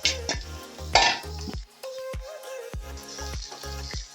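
Flattened rice (poha) being stirred in a pan: several quick scraping and clinking strokes of a utensil against metal, heard close up alongside steady tonal background music.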